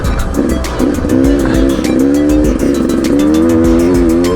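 Beta 200 RR two-stroke dirt bike engine on a test ride, revving loudly and steadily with rising and falling pitch as the rider shifts through gears, close to the microphone with no talk over it.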